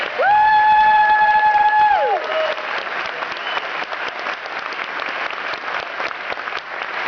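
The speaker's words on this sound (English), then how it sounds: "Would you please give a round of applause" Audience applause at a 2011 Giants town hall meeting, a large crowd clapping steadily and loudly for several seconds after a brief ringing tonal chime, with a few faint cheers mixed in.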